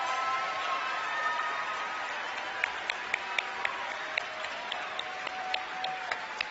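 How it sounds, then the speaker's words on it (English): Theater audience at a youth awards night applauds nominees and recipients, a steady dense clapping wash with a few sharper individual claps standing out, moderately distant and even throughout. "can we have one more round of applause for all of our nominees and recipients?"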